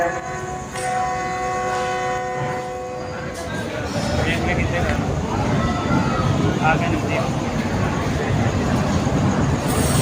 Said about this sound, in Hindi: 42 डाउन कराक्रम एक्सप्रेस बिल्कुल राइट टाइम पर प्लेटफार्म नंबर 2 पर अराइव हो चुकी है